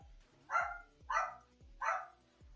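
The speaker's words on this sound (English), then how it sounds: "Apologize for the barking ahead of time." A dog barks three times at an even pace, each bark loud and fairly close, in an indoor room with only a faint background underneath and no talking.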